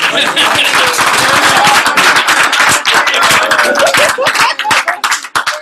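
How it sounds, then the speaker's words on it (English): Loud, dense clapping from an audience at a business opportunity meeting, many hands applauding at once in a steady, continuous burst. "And that's how you clap."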